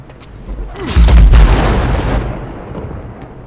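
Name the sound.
explosion in a video game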